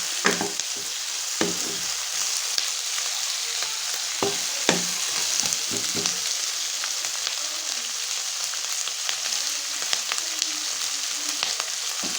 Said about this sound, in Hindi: प्याज हमारे रोस्ट हो चुके हैं अच्छी तरह से